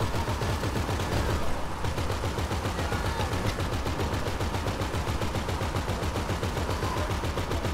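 A light machine gun firing in a video game, a loud, continuous rapid burst of gunfire that keeps an even rhythm throughout with no speech over it.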